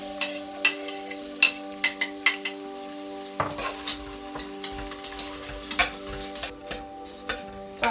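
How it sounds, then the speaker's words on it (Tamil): Onions frying in hot oil in a pan for South Indian brinjal rice (vangi bath), with a steady close sizzle and a rapid series of sharp spoon-scrape and stirring clicks throughout, no talk. "இப்போ எண்ணெய் காஞ்சிச்சுங்க. இதில் நம்ம எடுத்து வச்சுருக்க ஆனியனை சேர்த்துக்கலாம்."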